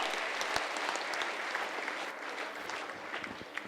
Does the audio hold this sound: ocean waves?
no